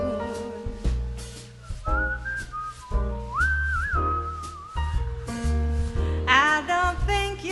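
A whistled little tune carries a wavering melody over a jazz band's steady bass and chords, loud and close, running through the whole passage.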